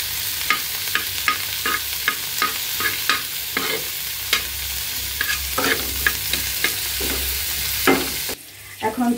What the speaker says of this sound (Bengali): এখন এটা একটু ভালো করে মচমচে করে নিব, পানি দিব না, শুধু তেলেই ভাজা ভাজা করব।